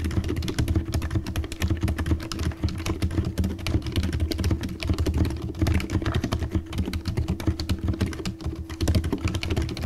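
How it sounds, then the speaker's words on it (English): Steady, continuous typing on a mechanical keyboard fitted with silent switches, soft muffled keystrokes running densely and evenly throughout, close and fairly loud with no voices. "there's just something oddly satisfying about typing on a silent switch."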